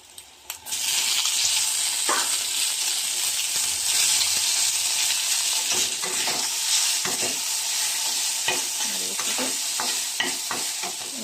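Steady sizzling from a hot pan as pasta fries with onions, with scraping stirs and occasional clinks, continuous and close, no voices.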